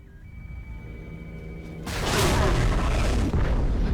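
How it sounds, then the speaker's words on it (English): A tunnel detonation in the video game Bioshock 2 starts with a faint mechanical whine, then erupts into a sudden deep booming roar that keeps rumbling loudly to the end. "Detonate the tunnel!"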